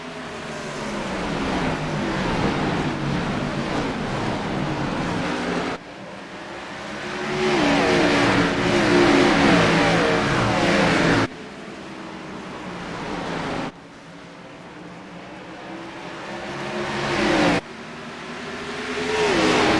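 Race cars at Richmond on the first green-flag lap of an ANZCAR 150-lap race, engines roaring and revving loudly in long sustained passes that swell and cut off abruptly, no talk.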